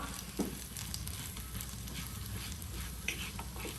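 Idli upma is stirred in a pan over a soft steady sizzle, with an occasional scrape and a small metallic clink of the spoon, fairly quiet overall.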